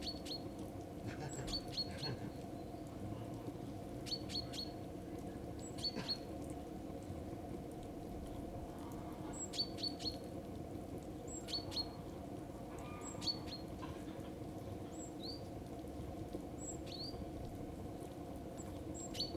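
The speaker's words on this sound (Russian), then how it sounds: "Птички." Small birds chirp in a winter village yard, brief high tweets repeating every second or two at moderate distance, faint over a steady crackling fire and low outdoor hum.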